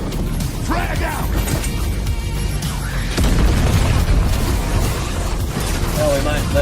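Frag grenade blast in the Gears of War multiplayer beta: a loud, heavy boom rumbling low alongside dense in-game combat noise, mechanical clatter and gunfire, with a player talking over it.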